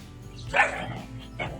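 A single dog barks once, then gives a shorter, softer bark a moment later, close by near a pool over quiet background noise.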